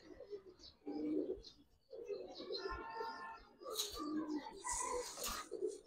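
Giribaz pigeons, one an NPFC Narayanganj bird with two leg clips, coo in repeated low bursts close by, mixed with other birds and background noise around a loft.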